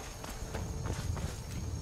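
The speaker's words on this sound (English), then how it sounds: "Is that my horse?" Horse hooves clopping on the ground in Skyrim, a light irregular patter of steps moving at a walk, fairly close and moderately quiet over faint background ambience.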